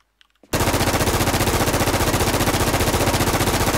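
Sustained loud automatic gunfire from the video game Infestation, a rapid, even stream of shots starting abruptly after a short quiet moment and continuing without pause.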